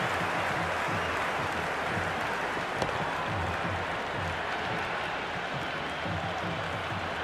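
Steady, loud crowd roar and applause from a cricket stadium crowd in the video game Cricket 26, a continuous dense wash of clapping and cheering with no talk, constant level throughout after a shot.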